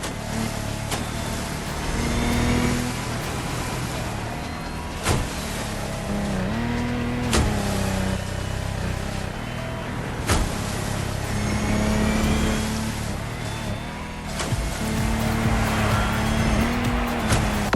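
In The Crew Motorfest video game, a Lamborghini Technomar boat races with its engine revving hard, pitch rising and dropping through repeated surges and sharp shift-like breaks, loud and continuous over rushing water.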